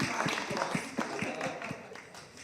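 Applause from an audience at a talk about women of colour in leadership, honouring the first black directly elected woman in Europe: a short burst of dense, steady clapping, close and moderately loud, with no talk over it.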